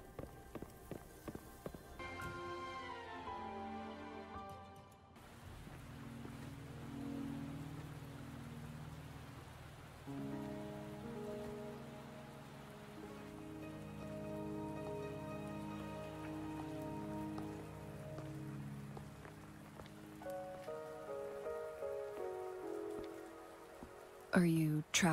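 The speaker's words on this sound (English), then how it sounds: "Are you trapped here by the rain?" Steady rain patters softly in a scene from the video game Wuthering Waves beneath layered synth music, with a few quick footstep-like taps at the start.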